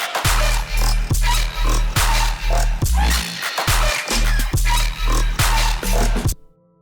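A thick, distorted sine sub bass pulses in a steady rhythm, each note punched by a kick drum, loud and close with no voices, ending abruptly.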